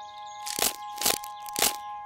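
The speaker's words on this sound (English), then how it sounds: "But we're just breaking crackers. Crunchy crackers." Crunchy crackers are snapped by hand in three distinct, evenly spaced crisp crunches, close and loud over a soft steady tone.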